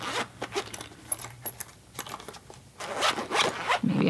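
Zipper on a knitting tool case holding crochet hooks, scissors and interchangeable needle cables being pulled open, with several short quick zipping strokes and light rattling of the contents inside, close and fairly loud.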